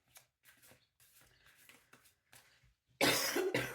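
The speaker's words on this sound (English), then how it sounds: "I get that I had a cough" A loud, harsh cough bursts out near the close, following a stretch of quieter, broken talk from the same voice.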